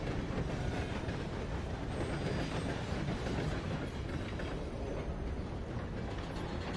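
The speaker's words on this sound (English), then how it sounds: "it was daylight the last time I rode the train through here. Here's the tunnel, Venrith." A steam locomotive in the Red Dead Redemption 2 game rumbles through a tunnel, a dense continuous roar of wheels and rattling carriages with a faint clickety-clack running throughout, loud and close.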